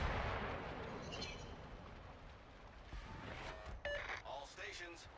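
Heavy naval guns of the Montana battleship boom in a naval combat video game, a deep rumbling salvo at the start fading into a long roll, followed by fainter distant thuds with radio-style voice chatter over them.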